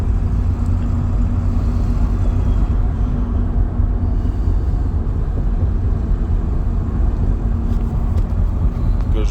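A 2002 Ford F-350 truck drives along a road after an alignment, its engine and tyre roar forming a steady, loud low rumble from inside the cab.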